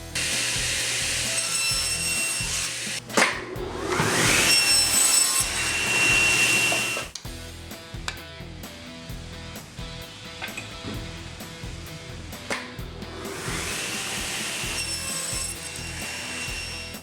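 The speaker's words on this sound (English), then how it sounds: "So what I'm going to do is use the table saw and the crosscut sled" Table saw with a crosscut sled cutting through live-edge wood boards: two separate high whining cuts, each a few seconds long, with the motor humming and clunking between them, close and loud, no talk.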